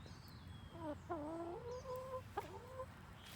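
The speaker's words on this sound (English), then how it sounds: "You are such a pretty chicken." A chicken in a garden gives a few drawn-out, close clucks and croons, fairly faint and with no voices over it.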